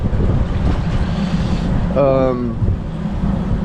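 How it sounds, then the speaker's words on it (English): Steady gusty wind rumbles across the microphone on a cold day outdoors, with a brief higher tonal sound partway through. "It is a cold and windy day out here."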